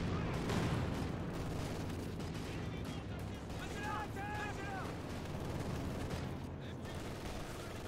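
Dense, continuous battle noise from a Company of Heroes 2 4v4 match, with Scott guns and a T-34 in the fight: overlapping gunfire and booms rolling steadily at moderate level, with faint voices mixed in.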